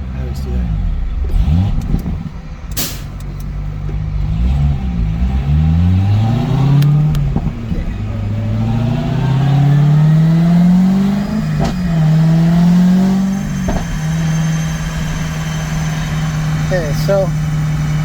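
Chevrolet Corvette C6 ZR1 with a 2.55 Griptec supercharger pulley revving on a dyno, engine note climbing and falling repeatedly from idle, loud and close, with sweeping pitch rises and a steady high hold.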